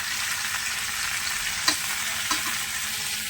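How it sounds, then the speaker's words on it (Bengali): Steady, close sizzling of food frying in a pan, with a couple of faint stirring clinks. "দেখো ইঁচড়টা ভাজতে বসিয়েছি"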